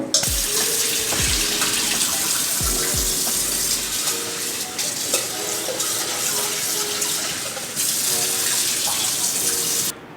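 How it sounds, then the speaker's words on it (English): Kitchen tap runs steadily while rice is rinsed in a pot, a continuous splashing gush with a few clinks and knocks early on, and no talking. "We're just gonna move the rice around and keep rinsing it, or keep dumping the cloudy water until the water is clear."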